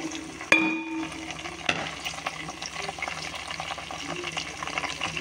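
Green chillies and curry leaves fry in hot oil with a steady, close crackling sizzle, a sharp clatter near the start, and occasional stirring scrapes throughout.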